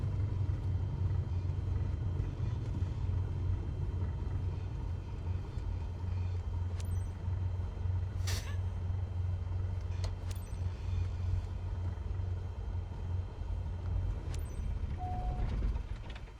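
Steady low engine rumble of a Cessna taxiing to parking in Microsoft Flight Simulator 2024, a constant droning hum with a few faint clicks and a brief tone near the end.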